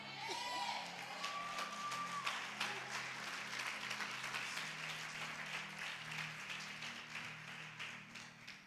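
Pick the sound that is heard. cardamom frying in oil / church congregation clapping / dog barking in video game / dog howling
church congregation clapping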